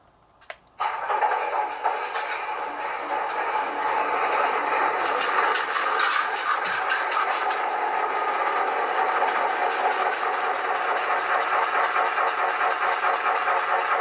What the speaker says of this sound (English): you have to hit F8 to start the prime mover if you want sounds for your operation